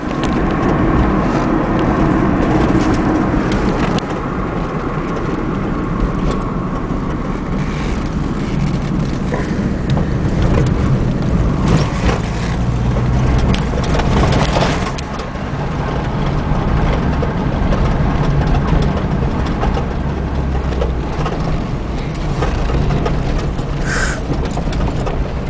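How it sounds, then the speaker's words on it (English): A turbo diesel Blazer project truck driving on the road, heard as a steady, loud engine drone with road and wind noise running continuously throughout, no talking. "so I'm going to drive to the shop"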